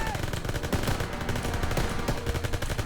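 Dense, continuous gunfire from Call of Duty WWII on the hardest Veteran difficulty, with rapid automatic bursts and overlapping shots running without letup, loud and close throughout.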